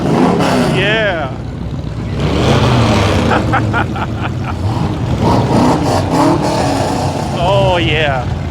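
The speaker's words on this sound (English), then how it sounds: "Gonna have to go up on the stands and watch some of this drag racing." Drag racing cars at a drag strip during a zip tie drags event, loud engine roars and revving close by, with people talking over and between the engine noise.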